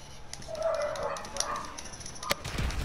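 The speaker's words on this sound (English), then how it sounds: "I don't know why he's barking though" A dog barks and yips indoors in short, fairly faint bursts amid background rumble and clatter, with a voice speaking briefly.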